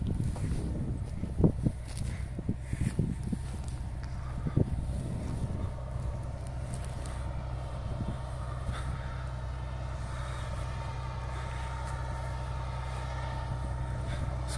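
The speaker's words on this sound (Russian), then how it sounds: "Сейчас трактор будет ехать обратно, поснимаю." Tractor pulling a Bourgault FMS seeder while sowing barley in a field, a steady low engine drone heard throughout, with wind buffeting the microphone and a few clunks early on.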